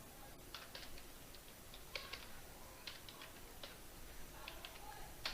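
Faint, irregular keyboard clicks come in short bursts as someone types a paragraph of HTML on a computer keyboard during a coding lesson, set against a steady background hiss.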